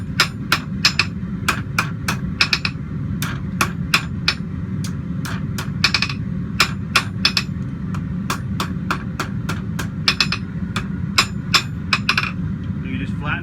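Blacksmith's hammer striking hot metal on an anvil while flattening stock for a hand-forged candle holder: sharp, ringing blows in quick irregular bursts over a steady forge roar, close and loud.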